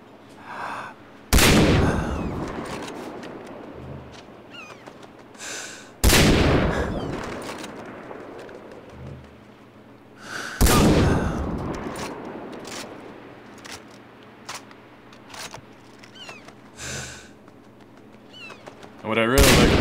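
Three loud, widely spaced M-700 sniper rifle shots from the game Far Cry 3, each a sharp crack with a long booming tail, with quieter gameplay sounds between them.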